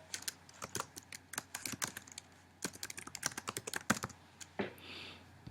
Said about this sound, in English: what I'm going to do here is basically type, and I'm going to type Go To Green Ball.